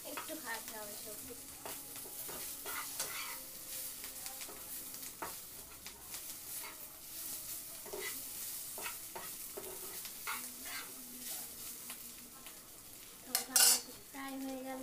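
Vegetables fry in a pan with a soft sizzle as a utensil stirs them, giving light scrapes and clinks, and a sharp metallic clatter stands out near the end; the whole is fairly quiet and close.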